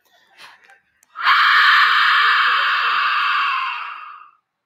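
A war instrument used when going into battle, made to sound like many people screaming, gives one loud, shrill, breathy wail that holds for about three seconds and then fades, after a short soft breath.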